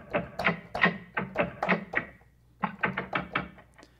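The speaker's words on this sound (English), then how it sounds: "is these here, which are just essentially various kinds of key sounds" Synthesized key noises from the RootBass virtual bass instrument: a rapid run of about fifteen sharp, clicky knocks with slight randomized variation, grouped in two bursts separated by a brief pause, close and dry.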